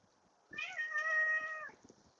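A single drawn-out meow from a male cat outdoors on a breezy evening, clear and close, rising and then falling over about a second, with faint background noise around it.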